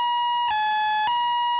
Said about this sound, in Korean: 사이렌 소리를 울리며 긴급하게 출동하는 산악구조대원들